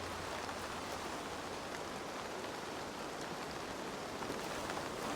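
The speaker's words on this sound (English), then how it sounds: "That rain just sounds so cool." Steady, dense rainfall in the video game Assassin's Creed Valhalla, a constant even wash of drops pattering on surfaces, moderately loud and unbroken with no talking.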